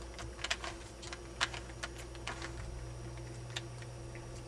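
A Rubik's cube is twisted through a run of moves, giving a quiet series of dry plastic clicks and clacks at an irregular pace over a low steady hum.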